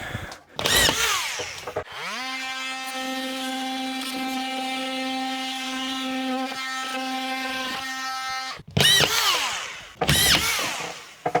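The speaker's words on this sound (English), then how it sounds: "If you never used a drywall gun, the way they work, they got a, you know, typical Phillips bit in them" A drywall screw gun with a Phillips bit runs a sustained whirring motor whine for several seconds, framed by short bursts of screws biting and driving into drywall panels during a bathroom remodel.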